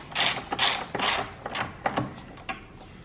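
A ratchet wrench clicks as a battery compartment is closed, giving a series of about seven sharp mechanical ratcheting bursts in uneven rhythm, close and fairly loud, with no voices.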